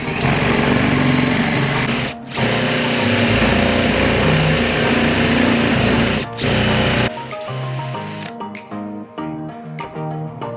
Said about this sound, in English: Let's see if we can get a hole through this now without ruining it.